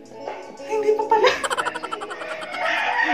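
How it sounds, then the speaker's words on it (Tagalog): A chicken clucks in a quick series of short, rhythmic calls, close by, with some faint background noise. "Okay, may manok na eh."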